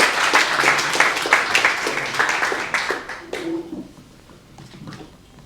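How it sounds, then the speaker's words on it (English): An audience applauds a speaker introduced at a discussion event on Palestine, steady close clapping that gradually fades out, with a few voices faintly under it. "make a round of applause for Sister Louise Scrivens, please, yes?"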